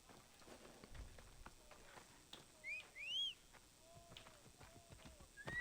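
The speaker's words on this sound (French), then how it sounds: "Ok, on va appeler le cheval." Horse in a video game galloping up when called, hooves clip-clopping in a steady run with a couple of neighs and whinnies, fairly close over faint background ambience.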